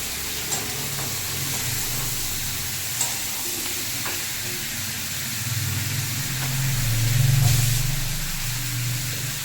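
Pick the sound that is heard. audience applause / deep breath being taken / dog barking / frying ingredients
frying ingredients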